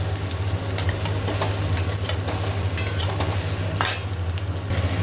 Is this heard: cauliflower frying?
yes